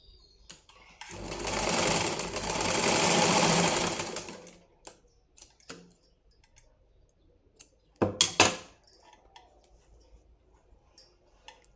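A sewing machine stitches a lined blouse in a quick, loud run of about three seconds, then stops. Faint clicks and handling noises follow, with a couple of sharper clatters.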